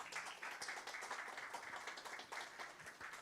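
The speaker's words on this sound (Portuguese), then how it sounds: "Uma salva de palmas para o Rogério" Audience applause at a live May Yellow road-safety event for Equatorial Piauí, welcoming a speaker. Soft but continuous clapping from many people rolls on evenly for a few seconds.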